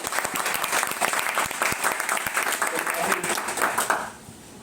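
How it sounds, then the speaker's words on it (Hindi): Vigorous audience clapping at an organisational gathering, close and loud with distinct sharp hand claps through a dense patter, fading out quickly near the end. "ताली बजाइए जोरदार अपनी ऑर्गेनाइजेशन"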